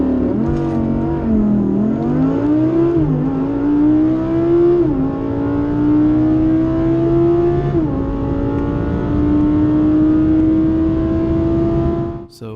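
A second-generation Audi R8 V10 launches down a drag strip, its engine note climbing steadily through several gear shifts with brief dips, loud and continuous, held close for about twelve seconds.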